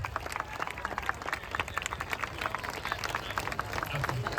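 A crowd at an outdoor political welcome rally claps in a dense, continuous patter, moderately distant, with voices mixed in underneath.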